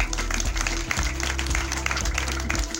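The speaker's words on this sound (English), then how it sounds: "Let's give a louder clap." Applause from an audience at a mourning gathering: dense, steady clapping, loud and sustained with little change in level, a faint hum underneath.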